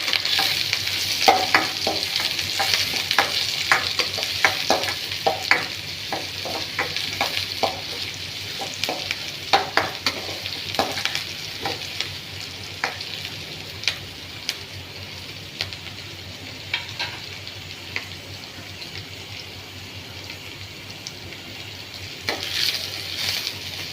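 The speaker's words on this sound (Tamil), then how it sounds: "ஆனியனை கொஞ்சம் நேரம் பொன்னிறமாக வதக்கினா தான் நல்லாயிருக்கும்" Onion sautéing in a pan until golden for mango and drumstick sambar, a steady close sizzle with frequent sharp spatula scrapes and taps, heavier early and easing later, with no talk.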